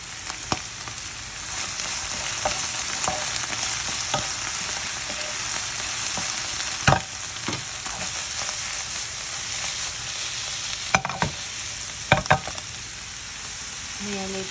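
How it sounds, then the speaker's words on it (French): Leeks and mixed vegetables sizzle and fry steadily in a pan seasoned with thyme and herbes de Provence over gas, with occasional sharp clicks and scrapes of stirring throughout, no talk. "Les poireaux, faut pas hésiter à la remuer."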